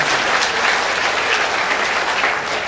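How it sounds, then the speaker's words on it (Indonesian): An audience in a hall breaks into sustained, loud applause, thick and even throughout, with no speech on top. "Tepuk tangan sekali lagi buat Bante, semua orang aja."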